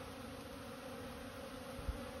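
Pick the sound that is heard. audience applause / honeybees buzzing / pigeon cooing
honeybees buzzing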